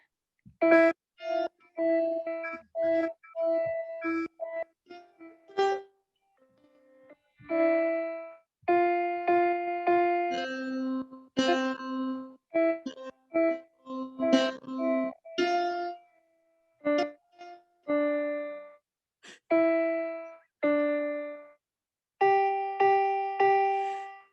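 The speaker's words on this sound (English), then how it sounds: "We've got our earth and we're going to complete some circuits and play some jingle bells" Jingle Bells played note by note on fruit and vegetables wired through a Makey Makey, producing clean, bright electronic tones in a clear melodic rhythm, each note short and distinct with brief gaps between.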